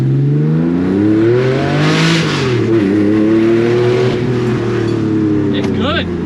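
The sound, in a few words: Porsche 964 with 6-speed swap accelerating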